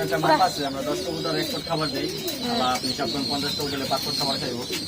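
Pigeons from a large home-kept flock coo in low, rolling phrases close by, repeating steadily throughout while people talk over them.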